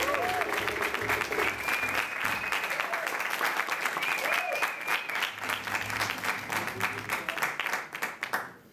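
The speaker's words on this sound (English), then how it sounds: "please, a wonderful round of applause for Dowell Williams and all of the staff." Audience applause at a jazz concert by a jazz band at CAS in Jersey City, New Jersey: sustained dense clapping from a crowd, steady for several seconds with a few voices and whistles mixed in, fading out at the end.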